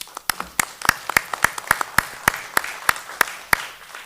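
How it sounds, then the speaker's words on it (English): A small group applauds at a township committee meeting, honoring the police department, with sparse, evenly paced claps ringing out clearly for several seconds. "They deserve a round of applause."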